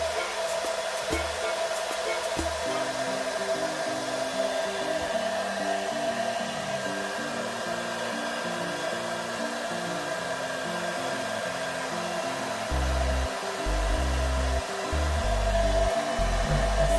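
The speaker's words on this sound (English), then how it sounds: "I'm about to smack myself in the face with the doggone blow dry. Like I said, this is on a cool setting." A handheld blow dryer runs on its cool setting, a steady close airy whoosh that holds for the whole stretch with a few low bumps and rustles as it is moved around the face.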